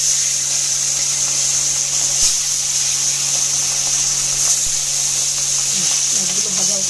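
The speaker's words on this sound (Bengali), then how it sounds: "মাছগুলো ভাজা হতে থাক।" Pomfret fish frying in hot oil in a wok gives a steady, bright sizzle and hiss that holds evenly throughout, close and loud.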